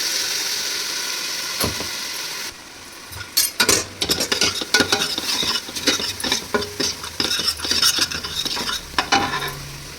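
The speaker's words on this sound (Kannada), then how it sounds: "ಈರುಳ್ಳಿ ಖಾರ ಸ್ವಲ್ಪ ಈರುಳ್ಳಿ ಸ್ಮೆಲ್ ಕಮ್ಮಿ ಆಗೋವರೆಗೂ ಸುಂಡಿಸ್ಬೇಕು" Onions sautéing in oil for mutton sambar sizzle as a quiet stretch gives way to busy, repeated scraping and clanking of a spoon against the pan, close and loud.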